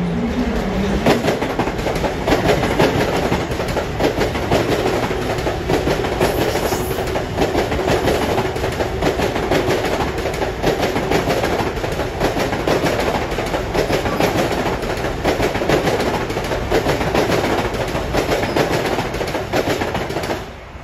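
An LIRR train rolls through Elmont station in a loud, sustained rumble, with steady wheel clatter on the rails throughout, no voices, fading slightly at the end.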